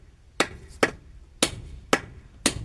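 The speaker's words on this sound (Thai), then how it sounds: "ตอกดีๆอย่าให้บิดย่าให้เบี้ยว" Five sharp, loud hammer strikes at a steady, unhurried pace, each ringing briefly before the next blow.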